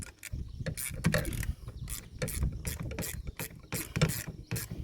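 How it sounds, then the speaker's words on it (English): A ratcheting end wrench turns a bolt on an electric trolling motor, giving quick bursts of close metallic clicking in an uneven back-and-forth rhythm. "Having a ratcheting end wrench, it makes a big difference."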